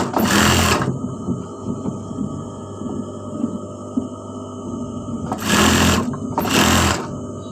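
A sewing machine runs in two loud bursts, stitching stretched elastic into a salwar waistband, with a low steady hum in the gaps between them.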